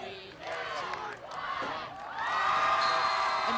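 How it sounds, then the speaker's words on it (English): A crowd at a boys' soccer match between North Farmington and Farmington cheers loudly for North Farmington, a sustained roar of shouts and whoops that swells louder near the end, heard close under an announcer's voice. "now the crowd's going crazy for North"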